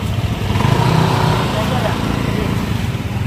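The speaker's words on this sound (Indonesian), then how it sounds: "saya naik motor bosku" A motorcycle engine runs steadily at close range with a low, throbbing rumble, a person riding off on the bike, with background talk mixed in.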